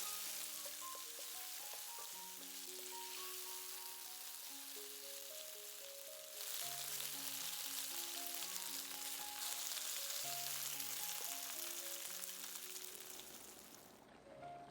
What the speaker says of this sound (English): Do your usual stir-fry or saute.